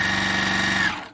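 A sewing machine runs at full speed in a fast, even mechanical buzz with a steady whine, close and loud, then winds down abruptly near the end.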